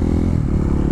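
A 2009 Yamaha R1 with a crossplane inline-four engine produces a loud, steady, low engine rumble for a moment, with no one speaking.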